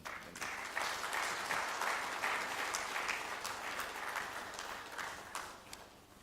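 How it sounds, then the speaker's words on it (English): Conference guests at the UPASI annual conference inauguration give a round of applause, a steady patter of many hands clapping that fades toward the end, fairly faint and without voices. "A big round of applause."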